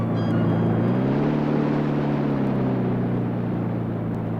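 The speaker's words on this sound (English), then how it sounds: "I've reversed the engine so we can ease into our mooring, Mr. Bishop." Boat engine reversing to ease into a mooring in an audio drama: a loud, steady low motor drone that sweeps slightly in pitch and keeps running throughout, with no voices.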